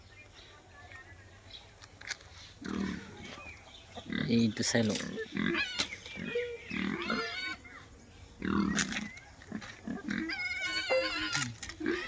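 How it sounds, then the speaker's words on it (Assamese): Two pigs on a small pig farm grunt and snuffle at close range in short irregular bursts, with people talking nearby throughout. "চাওকচোন এই দুজনী গাহৰি।"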